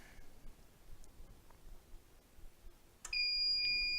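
After a quiet stretch of faint background clatter, a deep fryer's completion alarm starts sharply near the end, a loud, steady electronic beeping tone that keeps sounding.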